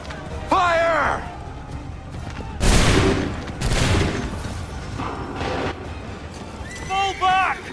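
Musket volleys crack out in Assassin's Creed III, two or three loud massed bursts in sequence, with shouted voices before and after and battlefield noise around them.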